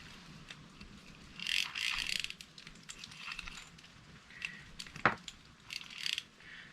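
The handle of a vintage Compac Riviera FS-860 spinning reel turns in close, quiet bursts of ratcheting clicks and gear whirring, with one sharper click partway through.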